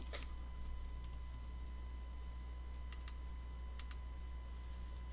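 A few faint, sparse clicks of typing on a computer keyboard sit over a steady low hum, with quiet gaps between the short bursts.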